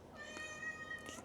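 A cat resting on an ironing mat in a sewing room gives a short meow, heard close and alone with no talking over it.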